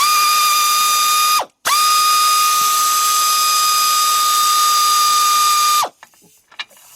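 Ratchet wrench working a starter bolt loose on a 2007 Chevy Impala 3.9, a loud steady high-pitched mechanical whir running continuously, pausing once briefly, then stopping abruptly with faint clatter after.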